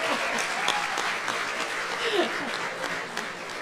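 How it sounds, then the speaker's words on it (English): An audience at a ministerial dialogue on economic transformation bursts into sustained applause, a dense wash of clapping that carries on steadily throughout, loud and close, with no speech over it. "Please clap."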